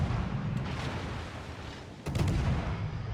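Naval guns firing in World of Warships, deep booming salvos from a warship with a heavy low rumble, one near blast at the start and another at the end, with no voices over them.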